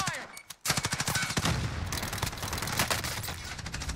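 Rapid automatic gunfire rings out in Call of Duty Warzone: close, loud bursts of machine-gun shots in fast succession, with a brief pause early on and continuous firing after it.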